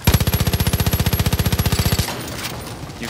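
A rapid, evenly paced stream of heavy gunshots fires from an elite weapon loaded with piercing ammunition in Far Cry New Dawn, about two dozen loud rounds over two seconds, then a ringing, rumbling tail as the burst stops.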